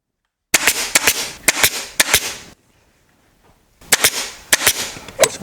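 A staple gun fires sharp snapping shots into upholstery fabric on an armchair: a quick burst of several close, loud cracks, a short pause, then another rapid run of staples.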